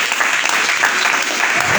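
A Pentecostal church congregation claps steadily in dense, continuous applause that fills the room, with a voice faintly heard beneath it.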